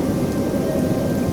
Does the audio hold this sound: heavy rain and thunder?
yes